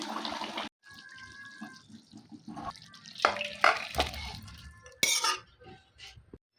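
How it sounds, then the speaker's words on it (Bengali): Water is poured into chicken kosha cooking in a pan, giving a few short splashing, trickling bursts with utensil clinks and quiet gaps between, close and fairly soft. "এবার আমি জল দিয়ে দেবো।"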